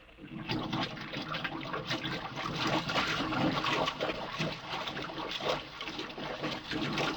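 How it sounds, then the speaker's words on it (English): Water being pumped out of a sealed airlock, rendered as a radio drama sound effect: a steady, loud gushing and churning rush of liquid that runs continuously without pause. "Water's being pumped out."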